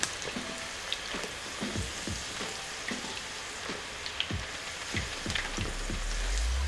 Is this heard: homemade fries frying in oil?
yes